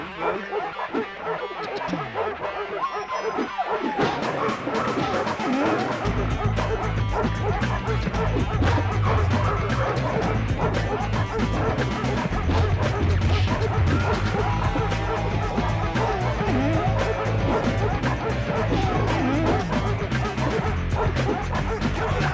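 Dogs barking in Three Dirty Dwarves on the Sega Saturn, rapid loud yaps and whimpers packed densely over a roaring, cluttered game soundtrack, continuous throughout.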